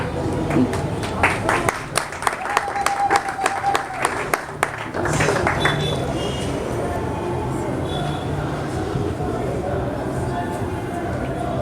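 A crowd at a book reading event claps in loose, scattered applause for a few seconds before it dies away into a murmur of background chatter.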